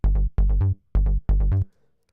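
Synthesized mid-bass layer with EQ applied, four punchy staccato notes in a short bouncing rhythm with rapid decays and a gap between pairs, loud and dry, alone with no voice.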